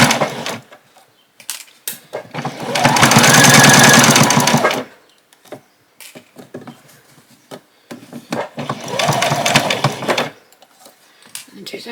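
A sewing machine stitches an apron in two loud, steady bursts of fast running, including a back stitch, separated by scattered clicks and handling noises.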